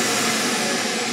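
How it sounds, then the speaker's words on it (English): A Forest River Ibex 20MDS travel trailer's built-in central vacuum, 2023 model, runs with a steady, loud broadband whoosh, close and continuous with no talking over it. "That's gonna be the nice central vacuum system that you just kick up"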